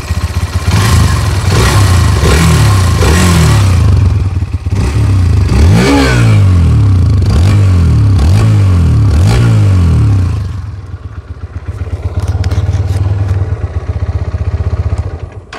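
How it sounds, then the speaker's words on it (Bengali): A 163.2cc air and oil cooled motorcycle engine runs loud and close, revving in repeated rising and falling bursts before settling to a quieter idle with clattering. "আমি যদি একটু ভেবটা শোনাই, এটা হচ্ছে ইঞ্জিন নয়েজ।"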